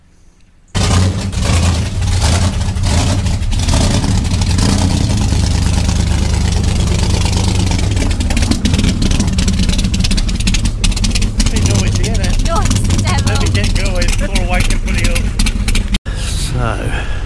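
A Willys car engine starts loud and close, then runs with a rough, throbbing idle and occasional revs, while people talk over it before a brief cutout near the end.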